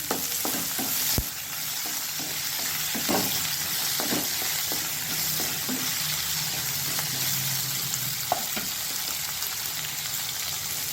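Long-cut potatoes and two green chillies frying in oil with a constant loud sizzle, broken by intermittent spatula knocks and stirring scrapes, close and with no talk.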